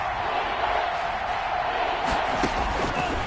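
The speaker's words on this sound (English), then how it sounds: "this crowd's going to get even louder" A stadium crowd roars in a PS4 football video game, a dense, steady wall of cheering noise with a few sharper shouts rising out of it.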